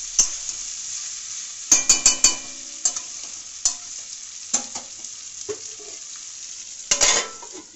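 Mourala fish being stir-fried with onion in a pan: a soft, steady sizzle broken by sharp scraping and clinking of a spatula in bursts, close up with no talk.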